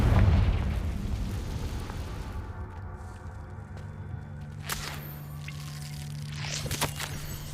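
A Confringo fire spell explodes in Hogwarts Legacy with a loud boom and rumbling blast that fades into a low hum, followed by a couple of sharp cracks and pops later on.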